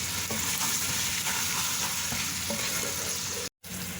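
Chicken karahi fries with dry coriander and chili flakes in a pan: a loud, continuous sizzle with stirring clatter, close up and without talk, cut by a brief dropout near the end.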